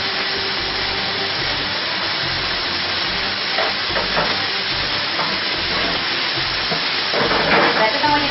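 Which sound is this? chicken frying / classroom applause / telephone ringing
chicken frying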